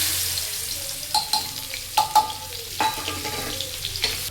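Chopped onion frying in hot oil with cumin seeds and asafoetida, a close sizzle broken by a few stirring scrapes and clinks of a spoon on the pan.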